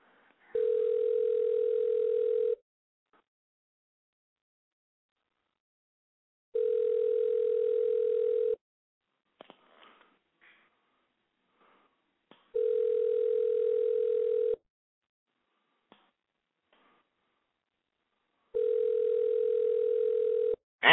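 Repeated telephone ringback tone on a radio call-in line, four long even bursts spaced a few seconds apart, clear and loud, with faint small clicks between them and no talk over it.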